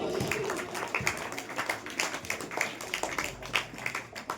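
Applause from the audience at an annual prize-giving ceremony at a religious school in Dhala, honouring a child who took third position; a quiet, even patter of many hands clapping throughout, without speech.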